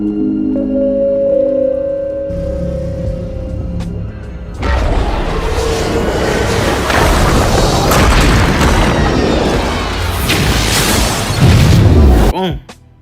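A movie explosion wrecks something, its deep boom and rumbling debris building after a tonal hum and a sharp crack, peaking loud near the end.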